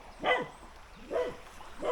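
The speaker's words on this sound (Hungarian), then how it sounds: "Hát itt vannak ilyen hülye kutyák." Dogs bark in three separate bursts spaced about a second apart, moderately near, against a quiet outdoor background beside a trout stream.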